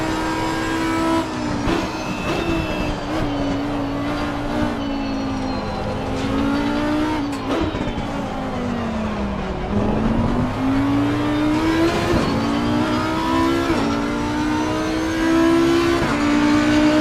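A GT3 race car engine in the racing game Assetto Corsa Competizione at Paul Ricard revs continuously, its pitch rising and falling through gear changes as it holds loud and close throughout.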